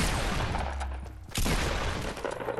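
Gunfire in the battle-royale game Fortnite, a dense burst of shots with a brief lull before a second volley of rapid cracks. The firing is fairly loud, with no talk over it.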